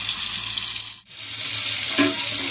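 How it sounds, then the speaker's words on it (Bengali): Fish frying in hot oil in a home kitchen, a steady loud sizzling hiss that dips briefly as the fish goes in, then resumes with crackling bursts. "এখন আমি মাছ তেলের ভিতরে দিচ্ছি। মাছটা ভালোভাবে আমি কড়া করে ভেজে নিব।"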